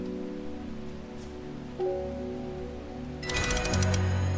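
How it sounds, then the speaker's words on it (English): Steady rain patters across a surface in a farming-style video game beneath layered background music, continuing evenly with no talk. "Does it ever stop raining under Mira?"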